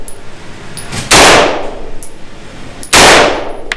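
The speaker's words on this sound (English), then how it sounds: "there was the first 3 shots, there was the second 3 shots" Two loud, sharp reports from a rifle fitted with a red dot sight fired at a target, each a sudden crack with a short ringing decay, about two seconds apart, close and unaccompanied by talk.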